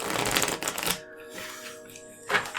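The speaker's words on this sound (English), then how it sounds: "Shuffle that in backwards." A deck of Magic cards is riffled and shuffled at a table, a crisp fluttering burst followed by a pause and a second short riffle, with faint background noise between.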